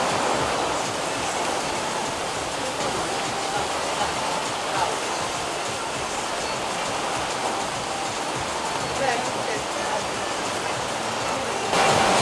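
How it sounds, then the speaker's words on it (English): Heavy rain pours down on the streets of Skopje, North Macedonia, during a thunderstorm, a dense, continuous, loud hiss of water that holds steady throughout. "the rain is absolutely pouring down. It's hammering down on the streets."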